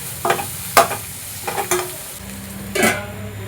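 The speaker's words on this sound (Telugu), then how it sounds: "ఇందులోనే ఒక స్పూన్ వరకు అల్లం వెల్లుల్లి పేస్ట్ వేసుకొని పచ్చివాసన పోయేలాగా ఫ్రై చేసుకుందాం" Ginger garlic paste frying with onions and chillies in a pan, a low steady sizzle broken by a few short scraping stir strokes, close and fairly loud, with no talk.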